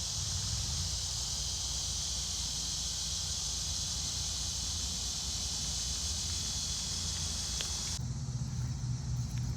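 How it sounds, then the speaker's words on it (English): Insects such as crickets chirp steadily outdoors, a dense continuous high-pitched trill with a low rumble of distant traffic beneath, and the texture shifts abruptly near the end. "bugs are definitely communicating because it's kind of like the east side versus the west side"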